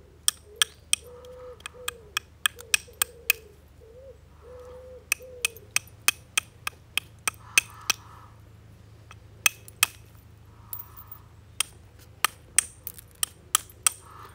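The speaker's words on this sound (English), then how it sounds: "we'll go back to this weight hammer again now" A weight hammer strikes stone while a stone dagger is shaped: sharp, close, irregular knocks and clicks, some quick clusters and some spaced out, over a quiet background with faint hooting sounds.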